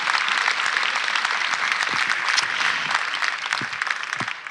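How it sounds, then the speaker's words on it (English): A crowd gives a big round of applause at an outdoor Project Homeless Connect event in San Francisco, thick continuous clapping close by that thins and tapers slightly at the end. "if I could get a big round of applause for the Department of Public Health"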